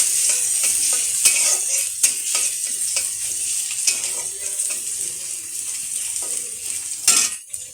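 A utensil stirs food in a frying pan for chicken balls and noodles, with repeated scraping clinks and ticks over a bright, continuous sizzle, close and fairly loud.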